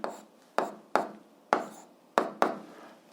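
Pen or pencil writing on paper while working a physics problem, six short strokes with sharp onsets and quick fades, close and fairly clear, no talk over them.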